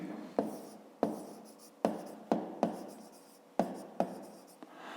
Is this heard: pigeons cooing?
no